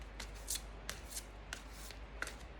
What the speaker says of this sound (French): Alors, on va mélanger les cartes.